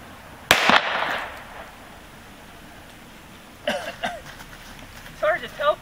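Gunshots at an outdoor shooting range: one loud, sharp handgun report near the start ringing briefly, followed by people talking nearby.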